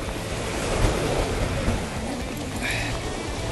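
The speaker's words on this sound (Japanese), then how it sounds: "でかい波来て" Big ocean waves break and surge along a Hokkaido shoreline, a loud, continuous roar of surf mixed with gusting wind buffeting the microphone.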